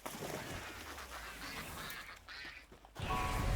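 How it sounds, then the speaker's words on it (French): Palm duck creatures in the video game Palworld quacking, a burst of duck calls over steady game ambience, with a louder stretch near the end. "des canards palmiers"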